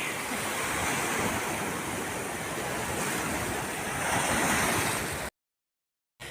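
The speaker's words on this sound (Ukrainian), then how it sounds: "Тут краще ось тут, щоб вода обмивала ноги." Sea waves wash continuously over feet at the shoreline of an Italian beach, a loud, close rushing surf with wind noise, ending in a brief silence.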